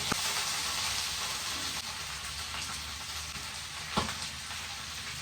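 Dried red chillies, curry leaves and onions sizzle in hot oil in a pan, a dense continuous frying hiss with a couple of sharp pops, close by and with no voices.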